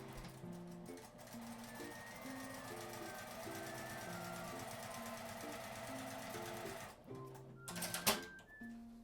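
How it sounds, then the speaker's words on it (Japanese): A sewing machine stitches the edge of a folded fabric card pocket with a one-centimetre seam allowance, running steadily and close for about seven seconds before stopping with a few clicks and handling knocks. "端を1センチの縫い代で縫います。"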